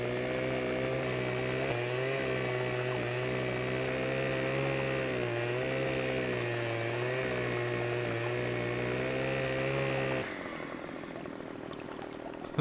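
A steady, droning chainsaw in Farming Simulator 15 runs continuously at close range, its engine pitch wavering slightly before dropping off abruptly near the end.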